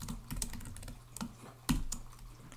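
Typing on a computer keyboard while entering MongoDB commands on an Ubuntu server: quick, uneven clicks and keystrokes close by, with one sharper, louder key strike partway through, no voices.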